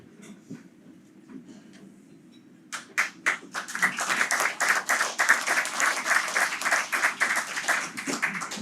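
A small audience at a Latin America panel event begins applauding as a speaker takes the stage, with faint murmuring first, then clapping that starts sparse and swells into steady applause.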